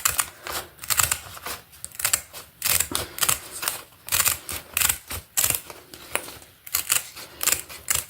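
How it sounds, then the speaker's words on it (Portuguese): Material for decorating glass jars being cut by hand: a close, steady run of crisp snipping clicks in quick rhythmic bursts, with no talking. "É até gostoso cortar. Pronto, cortamos."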